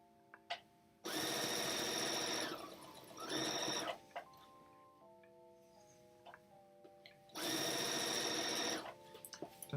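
A sewing machine stitching an inside-out bag runs in two loud, steady bursts of whirring stitches, separated by quieter stretches of small clicks and handling noises, with no talk.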